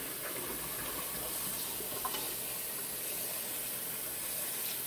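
Cool tap water runs steadily from a kitchen faucet while a pot of boiled eggs is refilled, a soft continuous rushing wash with no voices.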